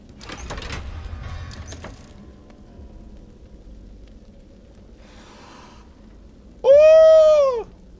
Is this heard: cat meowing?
yes